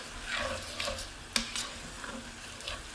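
Garlic and black pepper are stirred into translucent onions frying in a pan for pasta carbonara, with a soft, steady sizzle and a utensil scraping and clinking against the pan, one sharp clink standing out.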